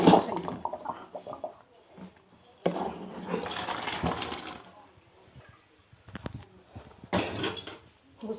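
Cooked vegetables are tipped into a strainer in a home kitchen, with water splashing and draining in a few short bursts amid clattering of pots and utensils, fairly close and moderately loud.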